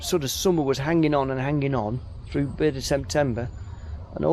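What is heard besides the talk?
None of the usual background noises is heard.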